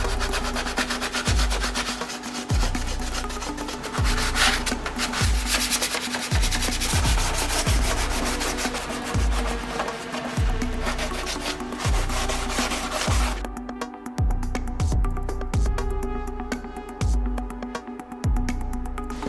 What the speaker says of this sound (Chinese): 看这些边边啊，不是很平整，所以我们可以先把它打磨干净。